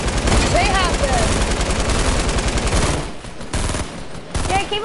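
Video game gunfire in a rapid burst of machine-gun style shots, loud and dense, with players talking excitedly over it and brief gaps near the end.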